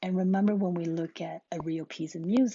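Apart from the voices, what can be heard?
No everyday noises stand out.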